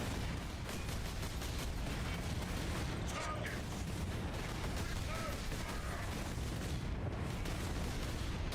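Grenade explosions and gunfire in the video game Warhammer 40,000: Space Marine, a continuous barrage of booms and shots, rather faint overall, with a voice talking over the din.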